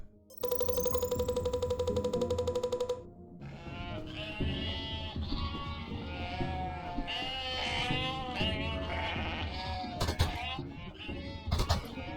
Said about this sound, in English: 250 sheep.